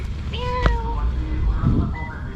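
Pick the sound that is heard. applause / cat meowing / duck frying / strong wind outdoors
cat meowing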